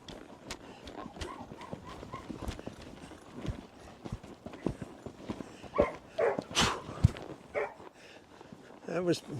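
Hooves of a horse named Joe clip-clopping as he walks during stop training, a steady close rhythm of hoof beats with some louder scuffs and thuds later, no talk.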